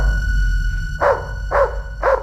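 A dog barks three times in a steady rhythm, tense and defensive, close and loud. He is standing at a basement door inside a house, with no voices present.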